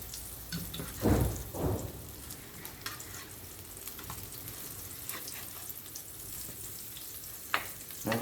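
Bakes, a flat fried dough, frying in a big frying pan in a home kitchen, a steady soft sizzle with a couple of louder bursts near the start as dough is flipped or dropped in.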